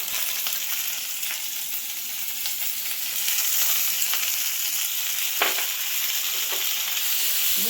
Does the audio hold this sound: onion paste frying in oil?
yes